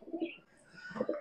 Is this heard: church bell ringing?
no